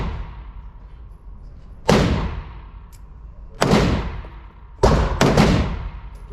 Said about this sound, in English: I'm gonna shoot 5